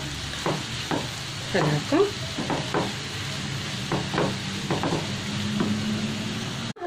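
Chopped green zucchini and carrots sizzle and crackle steadily in a pan, with repeated scraping stirs cutting through the close, continuous frying; a voice speaks briefly.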